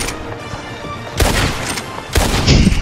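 Gunfire in a Wild West roleplay video game, set around a lake and island during a pirate battle: two loud bursts of shots break over a quieter background, the second running to the end, with faint voices near the end.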